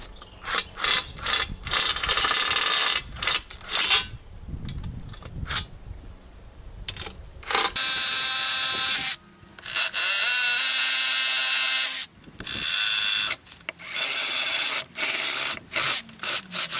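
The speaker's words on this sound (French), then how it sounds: "toujours percer légèrement en biais pour pas éclater ici le bord" Power drill boring at an angle near the edge of a board, in bursts of loud whirring separated by short pauses, with rattling and ratchet-like clicks between runs.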